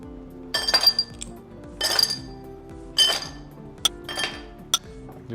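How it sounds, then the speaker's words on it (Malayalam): Ice cubes clinking as they drop into serving glasses for raw mango juice, several separate bright clatters in quick bursts with short pauses between, close and fairly loud, no talking. "അതിന് മുമ്പ് ആദ്യം ഞാൻ കുറച്ച് ഐസ് ക്യൂബ് ഇട്ട് കൊടുക്കാം അതിൽ കേട്ടോ."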